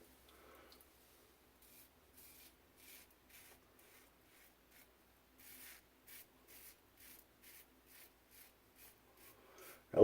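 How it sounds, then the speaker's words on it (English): A Mule R41 safety razor scrapes across a lathered face, making a series of short, quiet rasping strokes in an uneven rhythm, close up and faint, with a louder bump at the very end. "Let's try not to push the razor into the side of my face."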